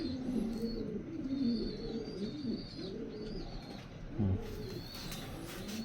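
Racing pigeons coo in low, repeated rounded phrases, with small birds chirping faintly in the background.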